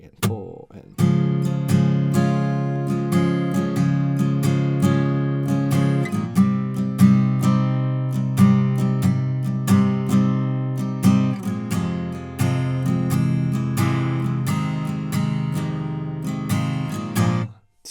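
Guitar strumming the chorus chords of a Christmas song, a steady rhythmic pattern of bright, close chord strokes with clear sustained harmony, played alone for about eighteen seconds before ending abruptly.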